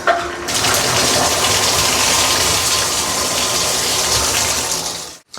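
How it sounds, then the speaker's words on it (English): A bathtub fills with water to wash the filters of a Honeywell F50 electronic air cleaner: a loud, steady gush of running water pours for about five seconds, then cuts off abruptly. "stop the bathtub, fill it up with water, put some detergent in it"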